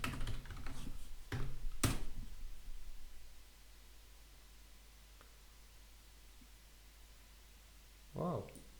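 Keys on a Spanish computer keyboard clatter in a quick burst of close, crisp clicks for about two seconds, then fall silent over a faint background hiss.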